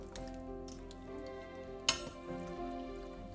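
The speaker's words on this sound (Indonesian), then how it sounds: "Kemudian aduk-aduk hingga bumbu dan bahan tercampur rata" Coconut milk, spices and boiled eggs simmering for an Indonesian semur telur cooked without oil, stirred in a pan with a soft, steady sizzle and a single sharp clink of utensil against the pan partway through.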